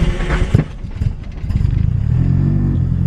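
An LS V8 engine swapped into a Toyota Cressida runs loud and close with a rough, rumbling idle that swells into a steady, throbbing rev.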